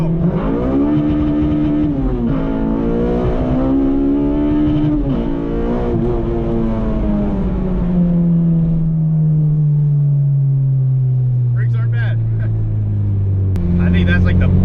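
Car on an open highway accelerating hard in first gear, its engine revving loud and close, climbing in pitch through a long pull before easing off into a lower drone, with a voice speaking briefly near the end.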